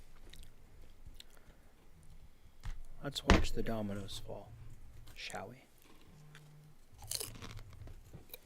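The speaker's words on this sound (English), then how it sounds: "Like the Dorito Crunch was a good effect." A villain loudly crunches Dorito chips as a sound effect, with a few sharp bites and chewing crackles heard under a quiet spoken line, played within a tabletop role-playing game session.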